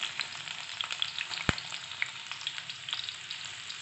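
Chopped onion sizzles and crackles in hot oil in a wok, a busy, steady frying hiss with one sharp pop partway through, heard alone without talk.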